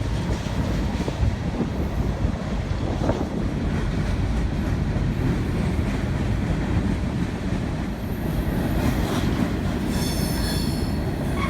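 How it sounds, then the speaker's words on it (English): A CSX coal train rolls steadily past on the EK subdivision in the hills of eastern Kentucky. A continuous heavy rumble carries through, with high wheel squeal rising toward the end, and no voices. "Between Talega and Athol, the train rolled through one of the many tunnels located on the EK sub."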